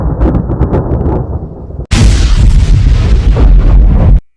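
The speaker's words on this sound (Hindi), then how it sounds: "थोड़ी देर बाद बादल गरजने लगे और बारिश भी शुरू हो गई।" Thunder in an animated Hindi village story: a low rumbling roll of rain and sky breaks into a sudden loud crack that keeps booming and rumbling for a couple of seconds before cutting off.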